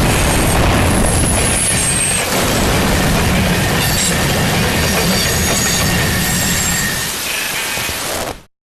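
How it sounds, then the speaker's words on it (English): In the Minecraft video game, a fast train modeled on the Big Boy 4005 locomotive approaches as a loud, continuous rumbling roar with squealing wheels and rattling cars. It stays up close throughout and then cuts off abruptly. "I think I hear something that is approaching you, and I think it's a train"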